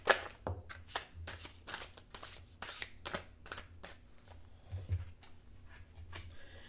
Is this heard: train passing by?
no